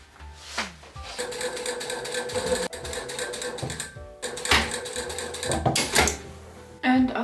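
A sewing machine runs in long, close, steady bursts while stitching the seam of a wide-leg pants facing, with short pauses between runs.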